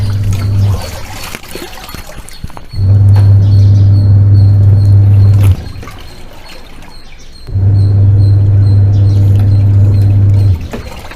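A new LG washing machine's drum turns back and forth during a wash cycle: two long, loud stretches of steady motor hum separated by quieter pauses, with a faint trickle of water in the background.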